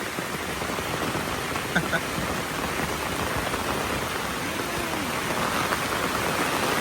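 Steady rain falls around a hut in the countryside, a dense, even hiss of drops filling the whole stretch with a couple of faint knocks, close and continuous with no clear talk above it.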